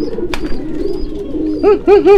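A pigeon at a bird market coos close by in a few short, rolling bursts near the end, following quieter shuffling and faint background noise.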